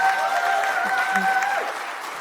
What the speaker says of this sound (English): Let's give them a round of applause, the graduating camp scholars.